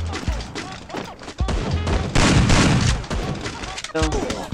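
Rapid bursts of gunfire and heavy thudding blasts from a multiplayer battle-royale shooting video game, loud and clustered, with a voice talking underneath the shots.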